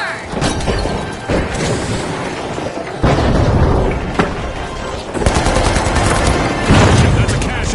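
Dense gunfire and sharp blasts from a frag grenade explosion in the arena shooter The Finals, loud and continuous with bursts of rapid shots, heavy booms around the midpoint and an announcer's voice running underneath.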